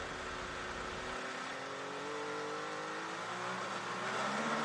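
An Acura ARX-06 prototype race car on cold tires accelerates hard at Mosport, its engine note loud and close and rising steadily in pitch as it pulls away, with no talk.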